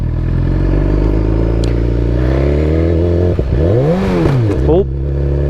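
A BMW S 1000 XR motorcycle engine revs up and shifts into second gear, a loud close whine whose pitch climbs, dips at the shift and rises again.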